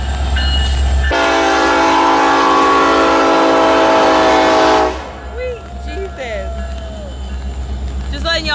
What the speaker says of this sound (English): We saw the train.